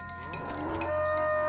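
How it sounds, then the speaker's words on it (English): A drawn-out, moaning cow moo from a floating cow skull enemy in the West of Loathing video game, swelling steadily louder over a second and a half with faint tinkling accents, no voices. "Your heart skips a beat as you spy a floating cow skull in the middle distance."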